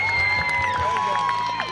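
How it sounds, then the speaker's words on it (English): Crowd applauding and cheering the winners of the scariest group category at a Halloween costume contest in Temecula, a short burst of claps and whoops with a voice over the top. "Big round of applause for them"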